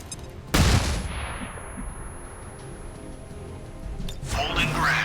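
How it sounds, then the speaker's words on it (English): In XCOM 2, a flashbang grenade goes off as a sharp, loud burst followed by a ringing decay, and another rising crash builds toward the end. "the Throwing flashbang."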